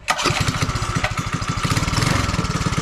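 A small engine with a new 2 liter gas tank, choked, fires and runs close by with a rough, rapid pulsing chug, loud and steady throughout.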